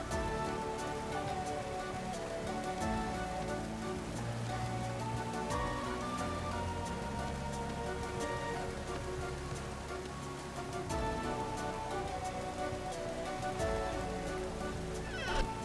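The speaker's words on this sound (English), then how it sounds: "running around out inside of the rain" Steady rain falls in the video game Vintage Story, a constant soft patter spread evenly over the whole stretch and layered under sustained in-game music, with no talking.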